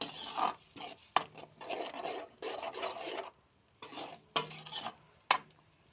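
Masala is stirred into a meal maker biryani curry in a pan: a run of close, rasping scrapes and rubs, each stroke a short burst with brief pauses between, and no one talking.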